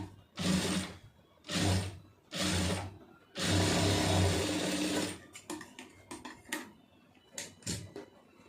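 Sewing machine stitching along a marked line in four loud bursts, one long, then lighter clicks and short whirs as the fabric is adjusted, heard up close.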